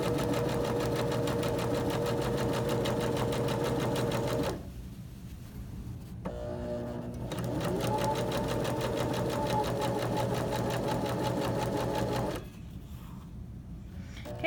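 A sewing machine stitches tote bag fabric with a steady, close mechanical whir, running in long bursts broken by two short pauses before starting up again.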